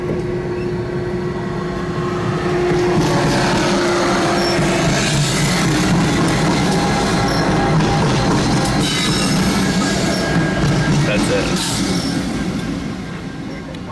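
A passing train at night: a loud, continuous rumble and rattle of wheels on rails with metallic squeal, close by and steady for the whole stretch, easing slightly at the end.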